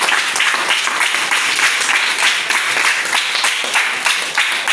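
Loud, dense applause from an audience at a panel event, many hands clapping steadily and close for nearly five seconds, alone without voices.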